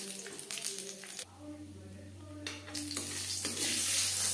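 Whole spices for a five-spice tempering sizzle and crackle in hot mustard oil over a gas flame, a steady close frying hiss with intermittent stirring, rising in intensity toward the end.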